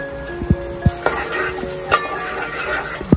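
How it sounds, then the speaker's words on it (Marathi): Garlic, ginger and green chili frying in a pan, a steady sizzle with occasional stirring knocks and scrapes of a spoon against the metal, close and fairly loud. "त्याला फ्राय करून घेतोय आता आपण"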